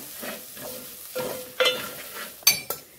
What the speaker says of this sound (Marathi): मसाले परतून घेऊया।